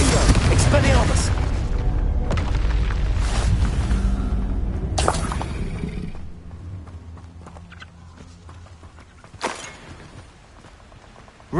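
Spell explosions in Hogwarts Legacy: a run of loud booming blasts and whooshing casts during combat, dense for about six seconds, then quieter with a single sharp burst near the end.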